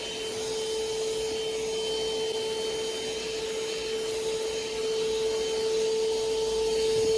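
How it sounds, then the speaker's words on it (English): A small handheld car vacuum cleaner whirs steadily and loudly, a constant motor whine with airy hiss, running without pause. "It's like a little vacuum cleaner."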